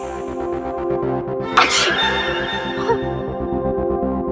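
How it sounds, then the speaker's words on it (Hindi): A single sharp sneeze bursts out partway through, loud and close, set against a steady musical background score in a Hindi TV comedy scene. "तुम्हारी छींकें रोकनी होंगी"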